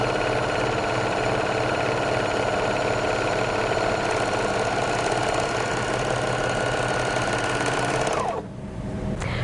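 A Bernina 1300 MDC overlocker sewing a 3-thread rolled hem, a loud, fast, steady mechanical whir that runs for about eight seconds and then stops abruptly.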